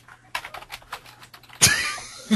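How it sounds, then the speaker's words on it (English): Someone types on a computer keyboard during an online webinar: a quick run of light, close clicks lasting about a second, followed by a sudden burst of louder, rushing noise. "I hear you typing"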